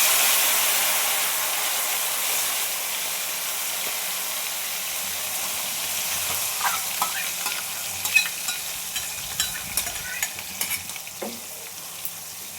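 Ground spices and chole paneer gravy sizzle in hot oil on a lowered gas flame. A steady frying hiss runs throughout, and from the middle onward a spoon scrapes and clatters against the pan in irregular strokes.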